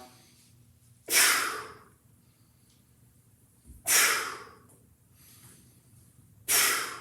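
Three deep breaths taken during a standing single-leg balance exercise, each a sharp, close, airy rush of breath followed by a quiet pause, spaced about two and a half seconds apart.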